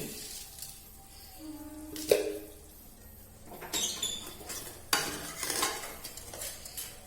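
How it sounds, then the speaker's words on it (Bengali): Biryani masala with a little sugar is stirred and fried in a pan, producing faint scraping and clattering strokes with a couple of sharp utensil knocks over a low, quiet sizzle. "পুরো জিনিসটাকে আমি 5-7 মিনিট মতন ভালো করে কষে নেব"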